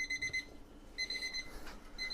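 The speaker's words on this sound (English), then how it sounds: "now you hear our alarm going off" A kitchen alarm goes off while a rib roast cooks, sounding in short bursts of high electronic beeps separated by brief pauses, fairly quiet against faint room noise.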